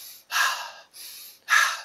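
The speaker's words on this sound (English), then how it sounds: "So you can breathe in and out like 5-10 times while you are" A man demonstrates rhythmic heavy breathing for tantric sex practice, close and alone: four forceful breaths alternating in and out, the exhales louder and sharper.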